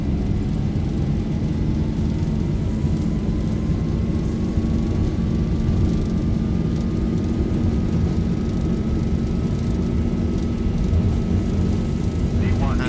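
Boeing 737 (ZIBO mod) takeoff roll in the X-Plane 12 flight simulator, departing Darwin: a steady, loud engine roar and rumble with a slowly rising whine, continuous throughout, with talk over it.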